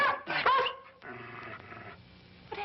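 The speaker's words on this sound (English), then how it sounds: "What happened to the dog? I'm afraid I hurt him." A hurt dog whimpers and yelps in short, close bursts, a few pained cries followed by softer whining and a last brief yelp.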